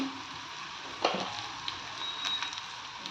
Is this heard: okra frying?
yes